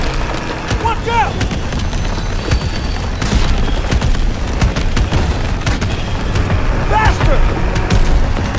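Gunfire in the Call of Duty WWII game, sustained bursts and splintering wood hits under a constant loud combat din, with shouted voices over the action.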